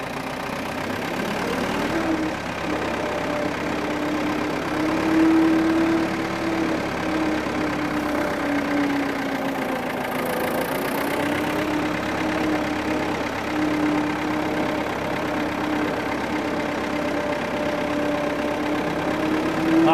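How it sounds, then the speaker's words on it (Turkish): A steady, rumbling engine of a 1951 MAN tractor idles and chugs continuously at close range, its low drone unchanging throughout with a faint whine riding on top. "o motor sesini duymak da güzel"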